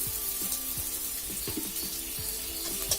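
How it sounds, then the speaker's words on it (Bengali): Salted potatoes fry in hot oil until reddish, giving a steady, close sizzle broken by a few short scraping stirs of a utensil in the pan. "দিয়ে আলুটা আমি লাল লাল করে ভাজি করে নিই"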